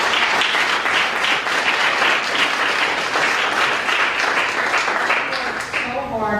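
An audience in a meeting room applauds an event organizer, a sustained, dense wash of clapping with some voices mixed in, fairly loud and steady before tapering slightly.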